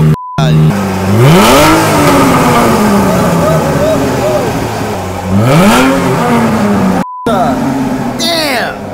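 A newly bought car on a cold start revving aggressively, engine pitch climbing and falling in two strong loud sweeps, with a voice talking over it partway through.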